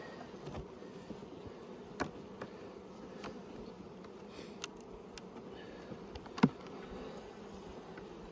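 A low, steady hum of honey bees rises from an opened brood box, with scattered clicks and one sharper knock from frames being handled.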